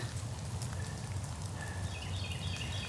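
Rain falls outdoors in spring during turkey season, a faint steady patter on surfaces, with a few distant bird calls in the background.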